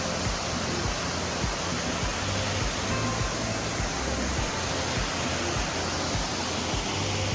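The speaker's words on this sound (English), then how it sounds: "we managed to get this waterfall, amazingly enough, all to ourselves." A steady, full roar of a waterfall in the Blue Ridge Mountains of Georgia and North Carolina rushes without a break, loud and close, with no voices over it.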